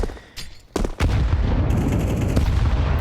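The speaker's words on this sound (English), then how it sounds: "Another good grenade, this time going to be landing on Lakalzi down in second middle" A grenade goes off in a Counter-Strike match, heard as a sharp burst followed by a sustained, loud roar of blast and gunfire that fills the rest of the moment.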